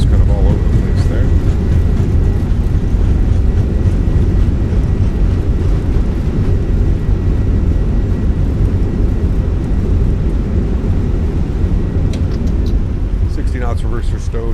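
An Airbus A320 in Microsoft Flight Simulator rolls out after landing with thrust reversers deployed, a loud, constant rushing engine roar filling the whole stretch, and a pilot talking over it.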